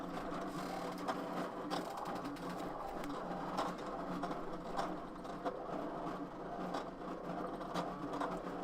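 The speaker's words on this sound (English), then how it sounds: "I'm going to press the play button, and the machine's going to start cutting it for me." An electronic craft cutting machine cutting a stamp design, giving a faint, steady mechanical whir with quick rhythmic ticks and clicks from the moving blade, continuous and alone.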